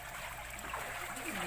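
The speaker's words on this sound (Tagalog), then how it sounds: "Dito kami nag-iigib ng tubig inumin." Water runs steadily at a communal drinking-water source that flows all day and serves as a washing and bathing spot, a constant close trickle under faint voices.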